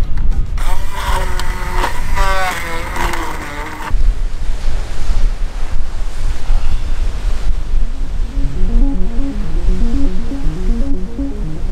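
Ocean surf rolls onto the shore in a loud, broad wash blurred by heavy wind on the microphone, with musical tones and voice-like sounds layered in at times.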